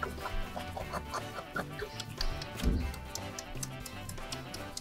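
A chicken clucking in a garden while being fed, a series of short, fairly quiet clucks and ticks over faint background noise, with no talking.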